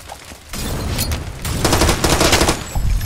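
Rapid bursts of gunfire in the Xbox One shooter Far Cry 2, loud and dense, building from a lighter patter into heavier sustained volleys that run almost the whole time with no talking.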